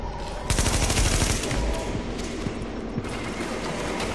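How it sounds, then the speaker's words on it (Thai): A deployed turret fires a rapid automatic burst at a boss in the video game Tom Clancy's The Division, loud and close at first, then sporadic shots and impacts continue under the game sounds. "ถ้าเกิดเราตั้งป้อมเร็วเนี่ยมันจะยิงบอสทันนะครับ"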